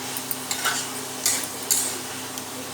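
Soy chunk (meal maker) fry being stirred and roasted in a pan, a spoon scraping and clinking against the metal in irregular strokes over a soft sizzle, close and moderately quiet.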